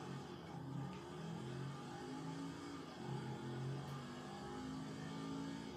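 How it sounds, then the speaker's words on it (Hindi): A car accelerates in the video game GTA V, its engine note rising and swelling in a continuous revving drone of moderate loudness with no talk over it. "सो गाइस अब हम भगाते हैं अपनी गाड़ी को, बहुत ज्यादा मजा आ रहा है इसको भगाने में."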